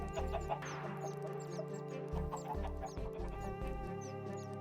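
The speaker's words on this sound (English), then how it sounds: "count how many chickens I've got" Several Minecraft chickens cluck in a steady, overlapping series of short, clipped calls, close and fairly loud over a low background hum, with no talking.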